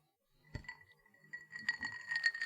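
Zing Zang Bloody Mary mix poured into a glass over ice, starting with a sharp clink and then a crackle of ice cubes shifting and tinkling as liquid fills the glass, close and fairly quiet.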